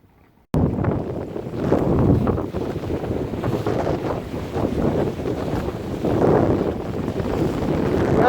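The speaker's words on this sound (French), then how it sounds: "Il y a du vent comme il faut." After a brief quiet moment, steady gusty wind roars and buffets the microphone aboard a sailboat in winter, with a faint wash of water beneath it and no voices.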